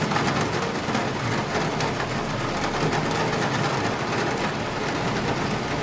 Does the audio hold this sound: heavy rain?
yes